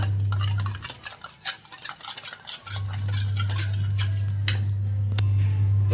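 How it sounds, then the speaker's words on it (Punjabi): A spoon stirs and scrapes through a thick shampoo and vinegar paste in a bowl, with irregular soft clinks over a steady low hum. "ਇਹਦਾ ਇੱਕ ਪੇਸਟ ਤਿਆਰ ਕਰ ਲਾਂਗੇ ਇਸ ਤਰੀਕੇ ਨਾਲ ਘੋਲ ਕੇ"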